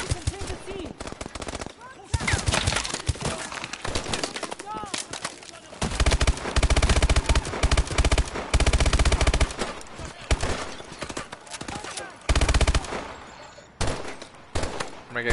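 Machine gun fire in the game Call of Duty: Advanced Warfare: long, dense bursts of rapid automatic fire, loud and close, with short gaps between them and the odd louder impact mixed in.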